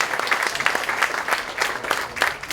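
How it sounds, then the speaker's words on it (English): Audience applause at the grand opening of a project in Belize, a steady round of many hands clapping, fairly close and continuous with no talk over it. "a round of applause, please, for this project"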